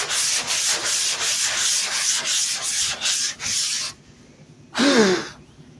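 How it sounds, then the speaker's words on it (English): A flat sanding block scrapes over body filler on a 1965 Ford Mustang body panel in a run of rapid, rhythmic rasping strokes. A pause follows, then one last louder stroke, heard close up with no talking. "when you run over it with a flat block,"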